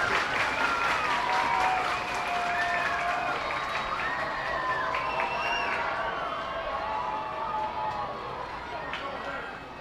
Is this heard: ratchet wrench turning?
no